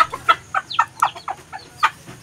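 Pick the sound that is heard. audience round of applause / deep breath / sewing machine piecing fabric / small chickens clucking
small chickens clucking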